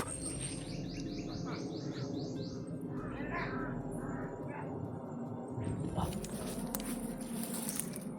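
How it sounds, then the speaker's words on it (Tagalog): A crow calls in a quick series of harsh repeated caws, followed by a few scattered calls, over a constant outdoor background hum with a voice talking. "Grabe talaga itong uwak to."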